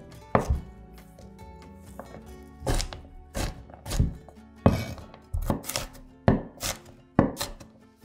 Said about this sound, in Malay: Bawang merah, bawang putih dan halia cincang kasar.